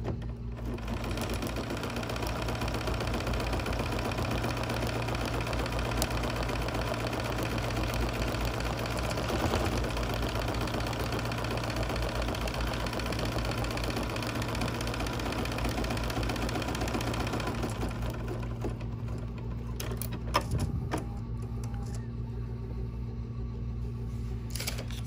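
A sewing machine, probably an embroidery machine, works a placement stitch on fabric for a tree trunk, producing a long steady mechanical hum with fine rapid ticking that ends near the close, followed by a few clicks.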